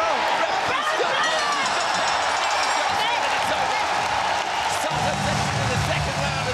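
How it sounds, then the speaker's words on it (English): A ONE Championship bantamweight fight crowd roars wildly in a steady, loud wall of cheering, with a commentator talking excitedly over it. "Sato takes it to the second round, and this crowd goes crazy"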